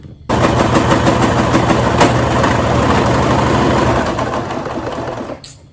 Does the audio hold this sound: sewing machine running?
yes